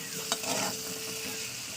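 Peeled boiled eggs fry in hot oil on a gas stove, giving a steady close sizzle with a brief scrape of stirring early on.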